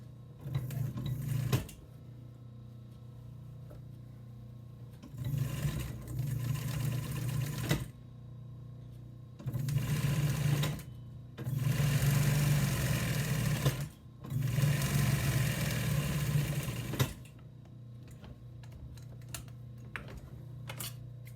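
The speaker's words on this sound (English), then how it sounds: "And I'm gonna finish it off by stitching over top of that." A sewing machine stitches a folded velvet scallop seashell pillow closed through several layers, running in steady whirring bursts of a few seconds each with quiet pauses between them, close and alone.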